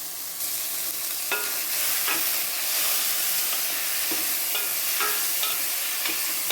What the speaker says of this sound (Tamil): இப்போ நம்ம மசாலா பொடி போடுவோம் கொஞ்சம் அது வந்து வணங்கட்டும்